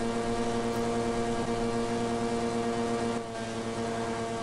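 A street kart engine running on a track lap at Wackersdorf, a steady loud droning buzz that holds an even pitch throughout, with a brief dip near the end.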